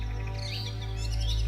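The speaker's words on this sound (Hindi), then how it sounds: "पक्षियों की मधुर चहचहाहट पूरे वातावरण में गूंज रही थी" Birds chirp and twitter in a forest, with bright calls over a steady low drone that runs through the whole stretch.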